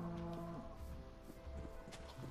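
Mooshroom cows in Minecraft low repeatedly as the herd approaches, several drawn-out moos in quick succession, clear and close, with no talk.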